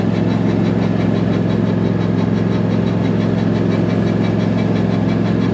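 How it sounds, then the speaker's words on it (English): A lawn mower engine runs steadily while the mower sits stuck on uneven ground near a collapsed barn, a continuous close, loud mechanical drone with a knocking, rattling pulse and no talking. "I just got the mower stuck"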